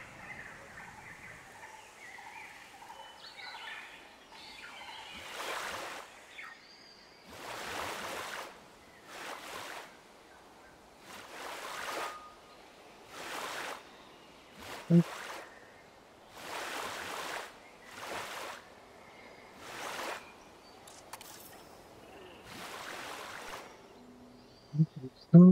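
Waterfall in the Jurassic World Evolution 3 dinosaur-park game, a broad rushing wash of water that swells and fades in repeated bursts of a second or two, fairly faint, with quiet background sound between surges.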